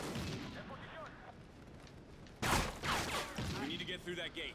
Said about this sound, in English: You can shoot through wood in this game.